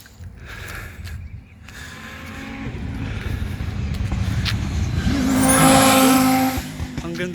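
Race cars roar past outside a house in a street race, engine noise building to a loud close pass with a whining rev sweep, then fading as the next car approaches.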